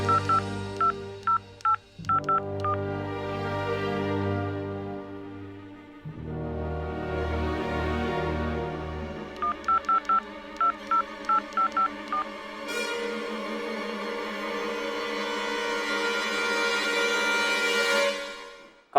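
Touch-tone telephone keypad dialing a number in a Bhojpuri drama scene, with a rapid run of clear beeps in irregular bursts and pauses between groups of digits, alone and close.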